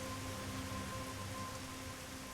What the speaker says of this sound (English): It is a shark storm.